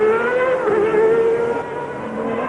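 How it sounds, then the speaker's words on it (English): Formula One race car engine at the 1992 Australian Grand Prix, a loud high-pitched sustained scream with rich harmonics holding steady on the straight, then easing slightly as it moves off. "Listen to the engine."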